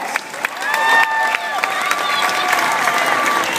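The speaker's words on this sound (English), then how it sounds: "Give me a round of applause." An audience at a Fear Factor contestant introduction breaks into steady applause mixed with cheers and whistles. The sound is fairly loud and continuous, and a host's voice is heard at the start.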